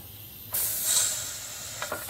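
Petrol carbonated in a SodaStream bottle fizzes sharply, a sudden loud hiss bursting in and holding steady, then a couple of brief spurts of escaping gas near the end, with no talk.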